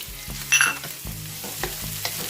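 Ginger and garlic sautéing in a pan used for frying pork ribs, a close sizzle with rhythmic stirring scrapes repeating about every half second, no voices.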